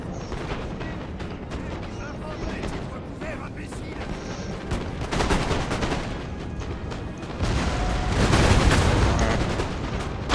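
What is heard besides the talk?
artillery firing in video game Napoleon Total War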